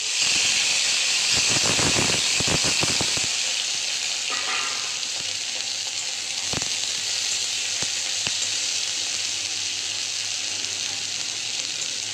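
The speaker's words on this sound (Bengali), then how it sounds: "এবার আমি কড়াইতে উচ্ছেটা ভেজে নেব" Bitter gourd frying in oil in a kadai, a steady loud sizzle and hiss throughout, with a few stirring scrapes and clinks early on.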